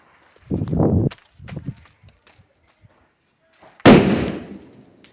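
Diwali firecrackers burst close by: two short pops, then a single loud sharp bang that fades away, with people speaking briefly between them.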